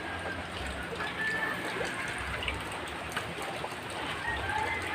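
Steady rain falls in a soft, even hiss, with scattered drips and patters at a moderate distance.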